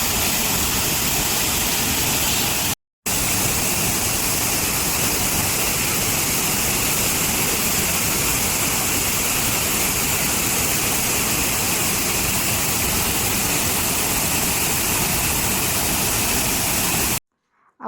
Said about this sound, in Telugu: ఇక్కడ చూడండి పెద్ద వాటర్‌ఫాల్ లాగా అయితే ఎంత బావుందో.